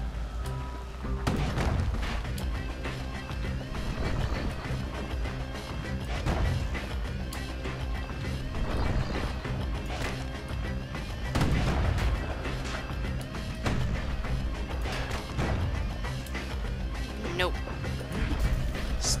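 Emergency defenses in the Bastion video game fire at the player, a dense barrage of booming shots, crashes and impacts throughout, loud and close, mixed with game sounds and talk.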